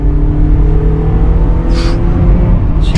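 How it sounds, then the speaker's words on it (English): A Honda Accord 2.0L VTEC engine revs steadily while driving, a loud sustained drone with rising harmonics and brief whooshing bursts, heard from inside the car. "Let's get the VTEC kicking in."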